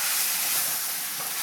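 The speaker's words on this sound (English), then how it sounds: "When you add all this together, give it a nice stir." Mango chicken with masala sizzles in a pan while being stirred, a loud, steady broadband hiss close up, with no talk.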